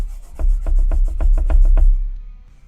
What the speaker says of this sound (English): I'm going to go ahead and use my eraser pillow to start with.